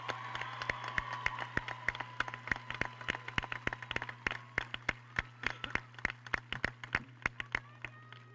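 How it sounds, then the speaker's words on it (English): A sparse round of clapping for high school graduates at a graduation ceremony, a few people producing slow, distinct claps over a steady low hum in a large hall. "Let's give them a round of applause"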